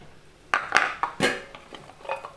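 Bitter gourd, carrot and sliced onion tossed together in a bowl for a thoran, giving a few scattered clinks and scrapes of utensil against bowl, close and fairly soft, with no talking.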